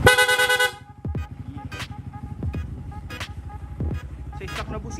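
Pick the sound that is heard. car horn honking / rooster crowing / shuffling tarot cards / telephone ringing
car horn honking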